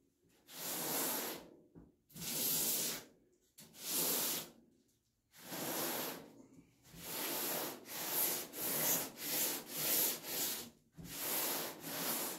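A cheese grater file rasps across body filler on a square-body truck in repeated long strokes, each a loud, coarse scraping sweep with short pauses between, the later strokes shorter and quicker.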